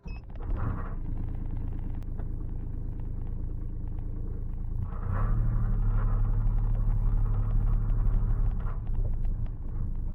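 A Honda vehicle running a Kubota D722 diesel engine with a VNT turbo on a road test, giving a steady low engine rumble with rhythmic pulsing that swells louder about halfway through and then holds, no speech.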